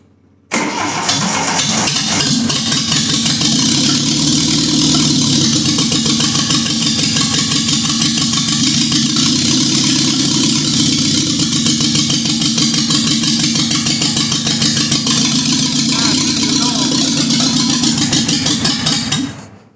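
A carburetted 1980 Triumph TR7 engine, choke pulled, cranks and catches, then runs at a loud, steady mid-pitched drone with a fast even pulse for most of the clip before cutting off near the end.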